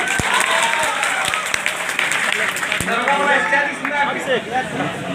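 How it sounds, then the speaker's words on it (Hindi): An audience applauds loudly for a women's battalion at a coaching-centre event, dense steady clapping with a few sharp claps standing out, fading slightly toward the end. "महिला बटालियन के नाम से जोरदार ताली।"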